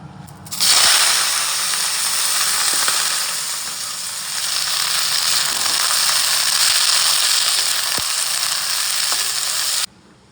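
Cut vegetables fry in hot oil in a wok: a loud, close, continuous sizzle that starts abruptly, dips briefly midway, carries a few faint clinks, and cuts off near the end.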